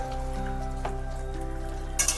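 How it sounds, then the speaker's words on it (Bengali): Chicken pieces coated in spice paste frying in a pan for chicken polao, a steady soft sizzle with occasional stirring scrapes and a brief louder clatter near the end, no voices. "এবার ভালোভাবে একটু নাড়াচাড়া করে নিতে হবে, মশলাটা যাতে খুব ভালোভাবে মাংসের সাথে পুরোপুরি মিশে যায়।"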